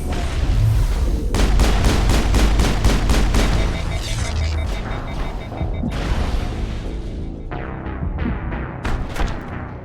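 Heavy gunfire erupts in the video game Mass Effect: dense bursts of automatic weapon fire and booms, loud and continuous for several seconds, then thinning into scattered shots with a final burst near the end.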